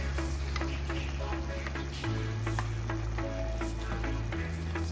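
Tomato paste and ground beef sauce cooking in a pan, a steady soft sizzle and bubbling running continuously under a low kitchen hum, with no talking.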